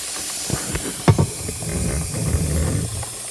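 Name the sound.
aerosol lubricant sprayed onto a motorcycle chain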